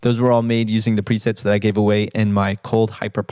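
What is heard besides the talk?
None of the usual background noises is heard.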